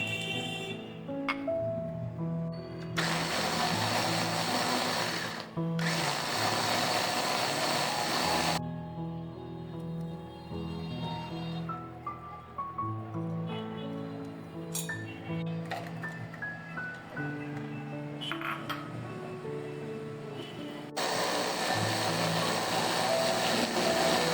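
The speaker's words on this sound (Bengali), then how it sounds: "আমি একইভাবে গাজরটাও ব্লেন্ড করে নিব।" Kitchen blender blending carrot, in several loud whirring bursts of a few seconds each separated by quieter gaps with clinks and rattles, the final burst starting near the end and running on.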